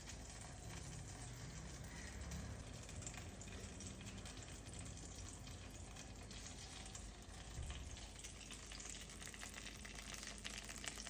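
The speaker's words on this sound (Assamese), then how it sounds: "এনেকুৱাকৈ বেঙেনাখিনি ধুনীয়াকৈ ফ্ৰাই কৰি ল'লোঁ" Eggplant (brinjal) pieces fry in a little oil with a steady, faint sizzle that runs evenly throughout, with occasional soft stirring clatter.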